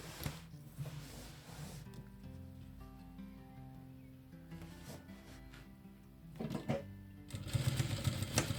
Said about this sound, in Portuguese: Já aproveita e já faz a costura de segurança aqui nas alças.